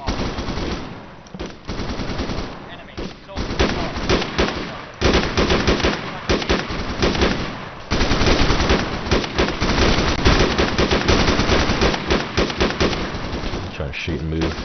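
Sustained machine gun suppressive fire in the ARMA 3 game, set in Pakistan mountains, loud continuous automatic bursts with brief pauses, voices talking underneath.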